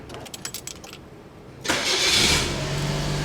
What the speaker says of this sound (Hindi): अब आपको हम गाड़ी स्टार्ट करके दिखाते हैं